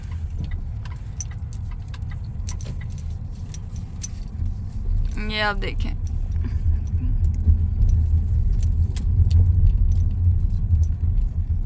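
A car drives along a rural village road in China, a steady low engine and road rumble running throughout with a brief jangle partway through, while someone talks over it.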